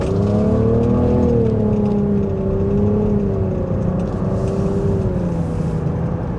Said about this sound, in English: there is this whining noise coming in from the engine, and maybe the transmission